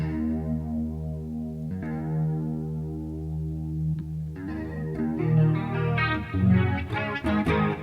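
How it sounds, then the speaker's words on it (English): Clean electric guitar played through a chorus effect on a Line 6 Helix, sustained chords ringing with shimmering modulation, then busier strummed notes building louder toward the end, played alone without talk. "I'm going to bring that chorus back a little bit too."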